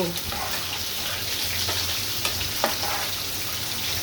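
Shrimp and mixed vegetables for a thick Bengali ghonto are stirred in a hot pan, giving a steady close sizzle with a few soft spatula scrapes and clinks throughout.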